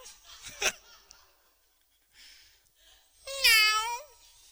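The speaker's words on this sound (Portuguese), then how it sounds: "Primeiro o rei ouve um miau." A cat gives a couple of short calls, then a clear, drawn-out meow, close and fairly loud, with brief quiet gaps between.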